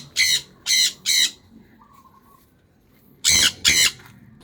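Pet Indian ringneck parakeets squawk at feeding time, giving three loud, harsh calls in quick succession, then a pause, then two more close squawks.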